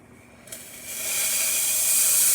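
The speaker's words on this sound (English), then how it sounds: "Nice strong steam." A La Pavoni espresso machine's steam wand opens after a full service and tune-up with a sudden hiss that builds into a strong, loud, steady rush of steam, with no voices.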